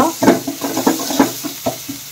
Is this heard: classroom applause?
no